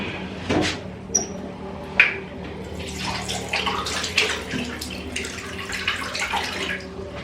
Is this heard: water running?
yes